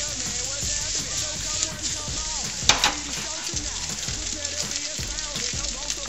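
Spam cubes frying in a pan until golden brown, a steady loud sizzle with crackles and the scrape of stirring running throughout, one sharper clatter near the middle.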